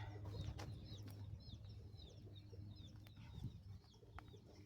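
Chickens on a farm plot where pumpkins are being planted, making soft, scattered clucks and calls at close range over a low steady background hum, with brief sharper bird chirps mixed in.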